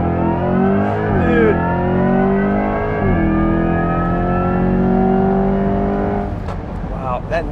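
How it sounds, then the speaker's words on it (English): A 2024 Corvette E-Ray accelerates hard, its engine revving up in rising harmonic sweeps while the electric motor's whine climbs higher and higher, loud and close before easing off near the end. "You hear it revving, but then the motor's still like the whine's like going higher and higher and higher."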